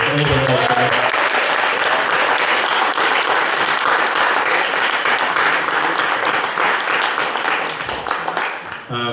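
Loud, sustained applause from a large audience at an Ignite Liverpool talk event, dense clapping filling the whole stretch before tapering off near the end.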